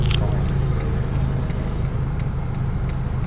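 A Honda Jazz GE 1.5 automatic's engine hums low and steady inside the cabin while a soft, regular ticking sounds over it, like a turn signal.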